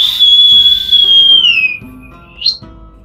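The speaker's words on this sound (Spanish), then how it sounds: "El enano lanzó un largo silbido." A single long, high whistle holds steady, slides downward, then rises briefly at the end, loud and close over a soft musical background.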